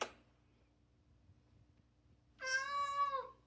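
A pet cat named Sassy gives one clear, drawn-out meow close by, rising and then falling. Before it there is only a brief soft noise and quiet room hum.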